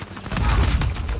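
A heavy gunner's machine gun in Uncharted 4 multiplayer fires a dense, loud burst of rapid rounds, rising quickly and rattling on close by.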